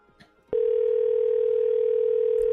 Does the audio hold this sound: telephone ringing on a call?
yes